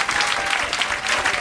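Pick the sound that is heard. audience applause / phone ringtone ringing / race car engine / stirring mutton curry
audience applause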